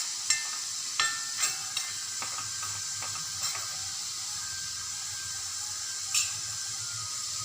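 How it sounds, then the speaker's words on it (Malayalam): Coriander powder being dry-roasted and stirred in a pan, a steady soft hiss with a few light scraping clicks of the spoon scattered through, close and fairly quiet, no talking. "എന്നിട്ട് ഇത് ഒന്ന് ഇളക്കി, മല്ലിപ്പൊടി ഒന്ന് ചൂടാവുന്ന വരെ ഇളക്കി"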